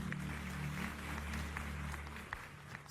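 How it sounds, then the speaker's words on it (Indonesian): A church congregation at a Sunday worship service applauds the praise and worship team, a steady wash of clapping heard from a distance across the hall. "Boleh tepuk tangannya di-extend buat tim praise and worship kita."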